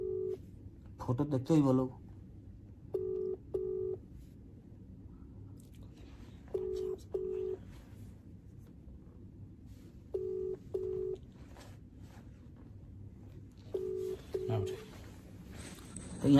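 A phone call rings out unanswered: a repeating ringback tone of paired pulses, heard four times at even intervals. A voice speaks briefly near the start, and low background noise runs throughout.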